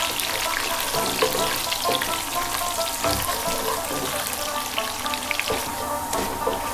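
Garam masala, panch phoron and garlic fry in a hot pan for a Sylheti beef bhuna, giving a steady, close sizzle with crackling pops and occasional scrapes of stirring throughout.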